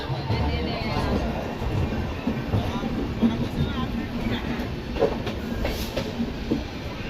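Haripriya Express train rolling along the tracks after leaving Tirupati, a steady close rumble with rhythmic wheel clatter, continuous and loud throughout.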